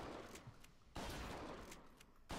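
Shotgun blasts from BioShock Infinite, two or three sharp booming shots spaced apart over a steady low background hum, fairly faint overall with no talk.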